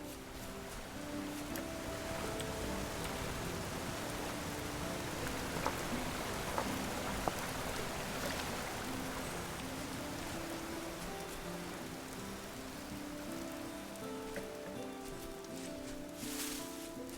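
Rain in the video game Vintage Story, a steady faint patter across the whole stretch with no break and occasional slightly louder drops.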